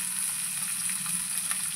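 Cabbage frying in a pan for pasta, a steady close sizzle with a bright hiss and faint crackle, continuous and even throughout.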